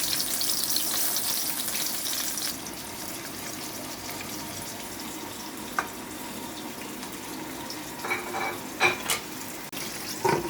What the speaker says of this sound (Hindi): तो अभी इसमें मैं टमाटर को थोड़ा पहले फ्राई कर लूँगी, प्याज और टमाटर को